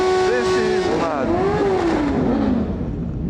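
A car with an aftermarket exhaust revs hard, its loud engine note rising and falling while tires squeal in a long wavering whine during a group ride.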